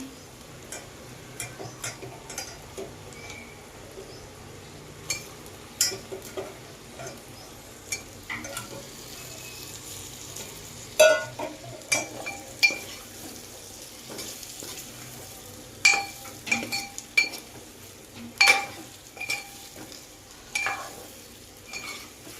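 Moringa drumstick pods sizzle gently in masala in a pan, with intermittent sharp clicks and scrapes from stirring over a soft, quiet frying hiss.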